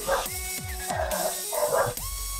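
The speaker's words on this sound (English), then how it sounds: "I hear doggies." Dogs barking indoors, a run of several sharp, rapid barks close to the microphone followed by a couple more yips, with no talking.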